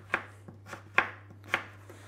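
A knife cuts sweet potato into thin chips on a board, giving four or five crisp chopping thuds at an uneven pace, close and clear against a quiet low hum.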